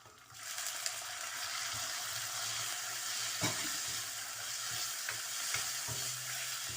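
Chicken sizzles steadily in butter and oil in a pan while being stirred, a continuous close frying hiss with occasional scraping clicks from the spoon.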